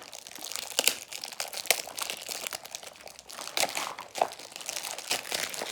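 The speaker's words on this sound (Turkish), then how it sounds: "Ben sana sadece poşetlerini açıyorum." Plastic toy packets from surprise boxes being torn open, with steady close crinkling and crackling of wrappers in irregular bursts, no talk.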